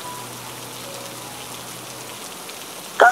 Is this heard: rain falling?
yes